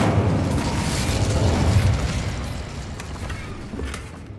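An Incendio fire spell cast in Hogwarts Legacy, a loud, low whooshing burst of flame that swells and then slowly fades, close with no voices.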